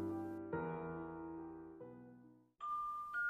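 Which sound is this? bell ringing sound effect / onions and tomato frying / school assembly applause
bell ringing sound effect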